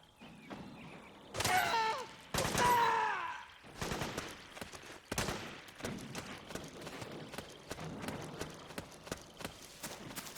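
Scattered gunfire volleys in Metal Gear Solid 4: Guns of the Patriots, with sharp loud bursts early on and sustained shots fading into a busy background of clattering and hoof-like thuds.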